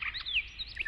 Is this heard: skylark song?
yes